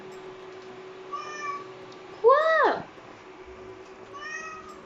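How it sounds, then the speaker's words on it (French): A house cat meows in a kitchen while people cook and wash dishes: a few short mews, then one loud, drawn-out falling meow midway, then another short mew, close by with room noise underneath and a brief spoken word. "Il n'a pas le droit, mais du coup, il miaule."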